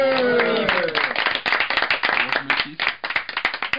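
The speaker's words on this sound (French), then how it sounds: "Allez, on s'applaudit tous." Studio audience and guests applaud together in a radio studio during a tribute evening, with voices talking at the start before a dense, steady burst of clapping takes over and continues to the end.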